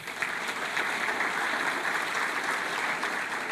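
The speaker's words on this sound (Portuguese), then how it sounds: "Então, aplauda Jesus" A church congregation applauds together during a service, a steady, dense wash of hand clapping that holds at an even level with no pause for the full few seconds.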